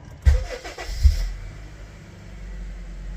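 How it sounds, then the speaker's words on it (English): A Honda Fit, 2008–2013 model, cranks briefly with two sharp starter bursts, then catches and settles into a low, steady idle, close and alone. "And let's start the car up, see if there's anything."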